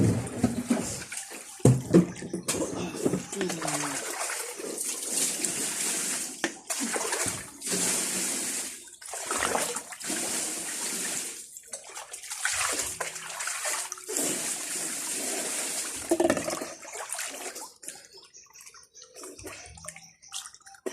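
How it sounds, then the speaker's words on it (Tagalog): Water flows and splashes in a natural pool where people bathe, with continuous close rushing and sloshing broken by short quieter gaps and occasional drips. "Masarap dito magpalipas ng oras sa flowing pool"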